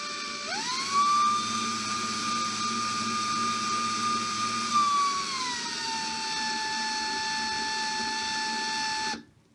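A drill twisting coil wire for fused Clapton coils gives a steady high-pitched motor whine for several seconds, dips slightly in pitch midway, then cuts off abruptly.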